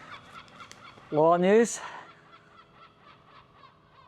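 A gull gives a single loud, rising squawking call of about half a second, close by, over a quiet outdoor background, with someone speaking before and after it.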